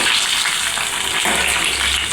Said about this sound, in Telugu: ఇది కొంచెం మెత్తబడే వరకు ఫ్రై చేసుకోవాలండి